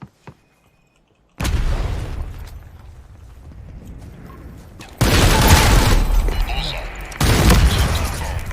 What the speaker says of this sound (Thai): โดนระเบิดตาย